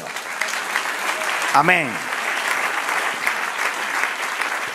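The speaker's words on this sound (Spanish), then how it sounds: "Dame un aplauso al Señor." Congregation applause in a church during a Spanish-language sermon, a steady dense clapping throughout, with a voice calling out briefly partway through.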